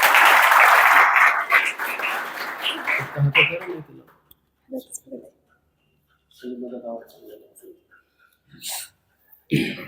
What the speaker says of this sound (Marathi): मोक्षदा नवघरे जोरदार टाळ्या